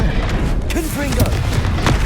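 Confringo blasting spell detonating in Hogwarts Legacy on Xbox Series S, heard as a dense, booming burst that holds over a loud background of game effects, with a character's voice weaving through.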